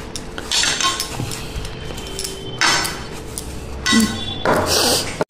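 Iron tawa pan being set on a gas stove: a series of close metallic clanks and scrapes in separate bursts, with a ringing clink near the end.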